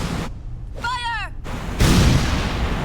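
Gunfire in Metal Gear Solid 4 comes as short, harsh bursts of noise, the last one loud and sustained, with a voice shouting an order between them.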